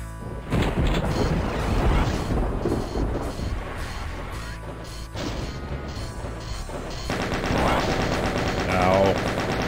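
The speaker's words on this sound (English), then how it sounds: "Oh, there's a chain gun there." Rapid automatic chaingun fire in Doom 64 rattles in dense, continuous bursts with harsh impacts and crashes, staying loud across the whole stretch with only brief dips.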